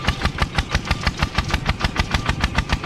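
A Kubota RT11 single-cylinder engine on a farm tractor chugs with a steady, rapid, evenly spaced knocking beat, loud and close with no talk over it.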